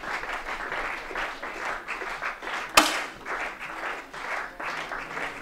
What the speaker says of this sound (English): There's some murmuring around amongst the crowd now as the clapping continues.